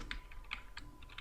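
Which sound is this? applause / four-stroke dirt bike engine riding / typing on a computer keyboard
typing on a computer keyboard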